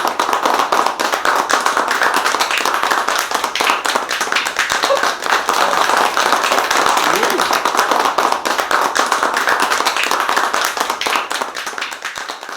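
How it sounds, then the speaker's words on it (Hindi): Audience applause greets a guest arriving at a spoof interview show, a dense, steady wash of clapping that stays loud and close for the whole stretch with no talk over it. "तालियों के गड़गड़ाहट के साथ आप स्वागत कीजिए मिस्टर मोदानी"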